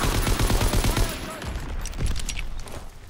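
Rapid bursts of close, loud gunfire from a World War II shooter game, Call of Duty WWII on an Ardennes Forest map, crackling in dense volleys through the first second and then recurring more sparsely over steady battle noise.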